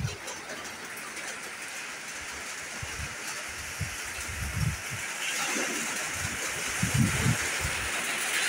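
Rain falls in a steady, soft wash outdoors in a village during a stormy monsoon evening with cool wind, a faint continuous patter with a few low rumbling swells and no voices.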